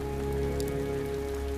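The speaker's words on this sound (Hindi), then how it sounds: "ये बेमौसम बरसात भी ना।" Unseasonal rain falls in a steady, even patter with no pauses, alone and at moderate level with a faint constant hum beneath.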